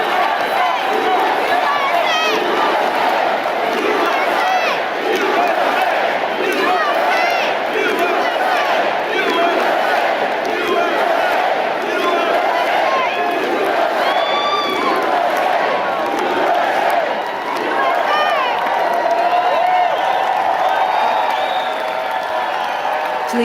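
A large crowd at the Republican National Convention chants in unison, a loud, continuous mass of voices rising and falling in rhythmic waves with cheering mixed in, filling the whole stretch without a break.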